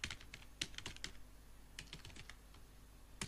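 A computer keyboard being typed on to enter a password, with a quick run of close, light key clicks, a short pause, then another burst of taps and a final keystroke, all over a steady low hum.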